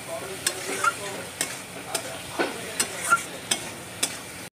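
Peas and chickpeas stirred into a pan of cooked-down frying spice masala, a steady sizzle broken by regular scraping strokes of the spoon, about eight sharp clicks over a few seconds, close and fairly loud with no talk.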